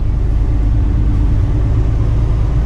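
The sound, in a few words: dump truck engine running while warming up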